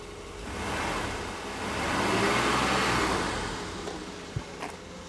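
A 1983 car engine idles continuously, its rumble swelling and easing in loudness, with a couple of sharp clicks near the end.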